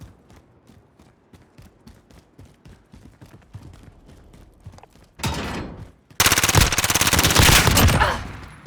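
Hip-fired automatic gunfire from a 50-round drum magazine in Call of Duty: Modern Warfare, soft distant shots and footsteps giving way to two loud, sustained close bursts of rapid fire.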